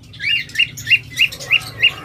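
Pet birds such as lovebirds, budgerigars, doves and cockatiels give a run of six sharp, evenly spaced chirps, loud and close, over a faint background murmur.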